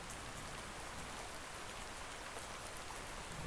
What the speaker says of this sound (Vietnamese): trời đổ mưa luôn các bạn ơi